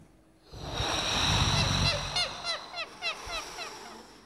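People on a French TV show imitate sea ambiance with their voices, a whooshing surf-like breath followed by a series of short, squawking seagull cries, several in a row, fairly close.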